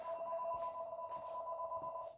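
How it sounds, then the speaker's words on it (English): A mobile phone rings indoors, a faint, steady electronic ringtone that holds without a break for a couple of seconds. "My phone's ringing."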